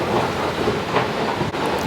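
Train carrying passengers on a one-hour ride to a London-area airport, heard from inside as a steady, loud broadband rumble and rushing noise with no voices.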